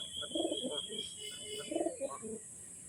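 A pigeon coos close by, two soft throaty rounds of cooing about a second apart, with faint background hiss and no talk.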